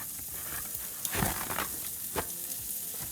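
Sausages frying in a pan, a steady close sizzle with brief louder bursts as they are moved or turned, no talking.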